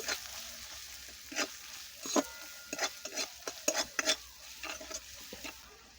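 Spice paste of cumin, chili and turmeric powders with salt and a splash of water being stirred in a pan for fish curry, with quick, uneven spoon scrapes and clinks over a faint low sizzle.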